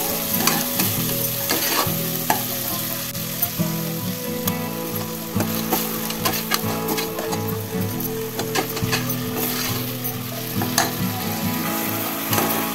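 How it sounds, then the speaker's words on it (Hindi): Onion, ginger, garlic and tomato sizzle steadily in hot oil while a spoon scrapes and stirs the pan, with frequent sharp clinks and scraping sounds over a continuous loud frying hiss, with no talking. "प्याज, अदरक, लहसुन को अच्छे से भून लेना है। उसके बाद हम टमाटर ऐड करेंगे।"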